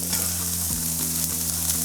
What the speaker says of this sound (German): Zuerst braten wir uns jetzt mal die Auberginen in Olivenöl an.